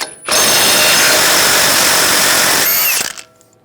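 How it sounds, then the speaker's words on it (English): Impact tool spinning off a Ram 1500 front axle nut with a 36mm socket, a loud, continuous whirring burst of about three seconds that stops abruptly. "Using a 36mm socket, I'll take this nut off."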